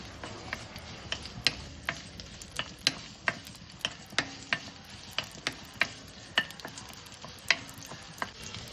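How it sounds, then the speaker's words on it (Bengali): Cut radish stirred in hot oil tempered with whole cumin and dried red chilli, giving a steady sizzle punctuated by regular sharp clicks of a spatula against the pan, close and clear, with no voices. "এবার এর মধ্যে দিয়ে দেব কেটে রাখা মূলোটা দিয়ে হালকা নাড়াচাড়া করে নেব।"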